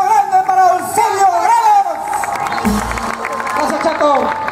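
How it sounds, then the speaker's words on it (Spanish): A crowd at a live Peruvian show cheers, whoops and claps for a singer as the music ends. The roar is loud and sustained, mixed with shouting voices and a busy hubbub. "¡El aplauso grande para Eusebio"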